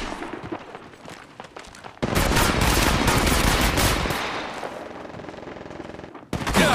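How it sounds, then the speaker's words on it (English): Dense bursts of automatic gunfire in a shooter video game, sustained loud rattling for several seconds after a quieter stretch, then a brief pause and a fresh burst at the end. "Getting shot at."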